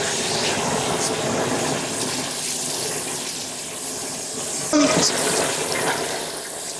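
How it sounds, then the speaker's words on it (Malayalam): Oil, previously used for frying chicken, pours into a hot pan for chilli chicken, giving a steady loud hissing, rushing wash of sound that continues throughout. "ചട്ടി ചൂടായിട്ടുണ്ട് നമുക്ക് എണ്ണ ഒഴിക്കാം"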